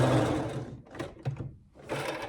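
A sewing machine runs in short bursts while backstitching jersey fabric, a close whirring stitch that stops briefly, gives a couple of clicks, then starts again.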